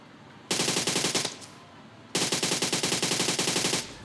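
Two long bursts of rapid automatic gunfire in the PUBG Mobile game during a solo-versus-squad fight in Pochinki, loud and close, separated by a short lull, with no talk.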